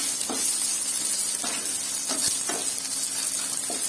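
Onions fry in a pan with a steady, bright sizzle, punctuated by about five soft, regular scrapes of a spoon stirring them; no one speaks.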